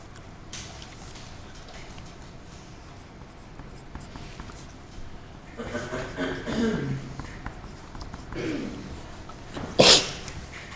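One sharp, loud sneeze breaks out near the end in a quiet classroom, after a stretch of low room noise and some murmured talk.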